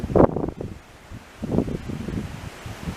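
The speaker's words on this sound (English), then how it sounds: "Pretty breezy up here." Breezy gusts buffet the microphone at a rocky mountain overlook along Skyline Drive in Shenandoah National Park, two rumbling swells of wind with quieter rustling between.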